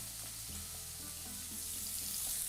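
Garlic frying in a pan gives a constant, bright sizzle, close and fairly quiet, with a few soft stirring knocks underneath while Spanish tapas are cooked.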